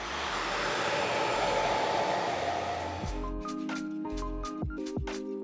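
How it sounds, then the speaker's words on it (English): A hair dryer fitted with a diffuser blows steadily and close by while drying curly hair, a constant airy roar that later carries a faint tonal whine. "the secret when you're blow drying your hair is to not only just go on the outside, but I like to go in with the diffuser"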